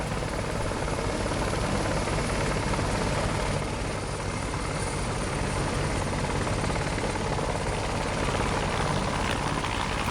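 Bell 430 helicopter engine and rotor in a flight simulator game, a loud, steady, dense whine and thrum running continuously throughout with no talk.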